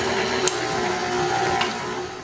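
Electric mixer with a whisk attachment creaming sweetener with another ingredient in a bowl, producing a loud, steady whirring motor drone with a couple of brief clicks, close and uninterrupted, with no talk.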